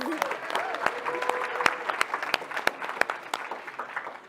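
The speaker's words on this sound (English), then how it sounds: "let's give him a round of applause" Audience applause at a Disney Lorcana card game tournament, a moderate crowd clapping steadily with sharp individual claps standing out, a voice briefly heard over the start.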